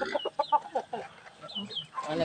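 Several chickens clucking close by in short, uneven bursts, with a few higher squawks mixed in.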